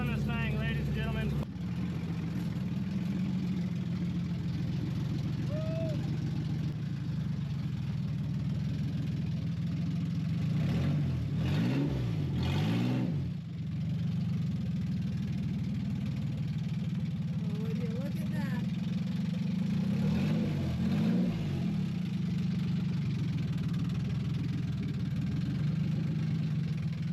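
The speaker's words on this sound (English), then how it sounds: "she's gonna be loud because we have no exhaust on this thing" An old car that had sat for three years idles loud and raw with no exhaust fitted, a steady rough rumble broken by a few sharp revs near the middle and again later, with people talking over it.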